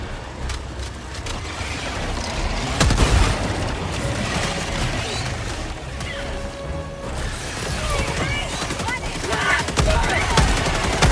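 Gunfire in the Helldivers 2 video game, dense bursts and sharp impacts blending with booms and mechanical clatter, loud and near, with a voice calling out now and then.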